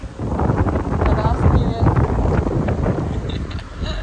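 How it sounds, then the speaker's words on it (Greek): Strong wind gusts buffet the microphone at a hilltop village on Naxos, a loud, continuous rumbling roar that surges and eases over a few seconds. "και φυσάει και έχει κρύο"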